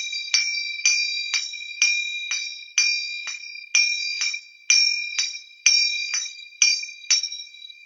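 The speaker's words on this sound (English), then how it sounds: "Make sure you're not muffling the finger cymbal with your fingers on the top part of the cymbal." Bright, ringing metal finger cymbals (zills) are struck with alternating hands, about a dozen clear, evenly spaced strikes whose shimmering tones decay between hits, close and alone with no talking.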